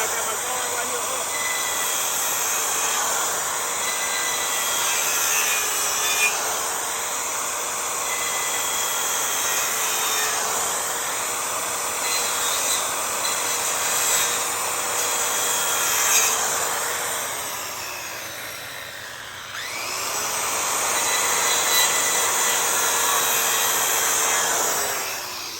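A circular saw runs continuously, cutting into wood for a housed joint, its high whining drone loud and steady with a brief dip near the end before spinning back up.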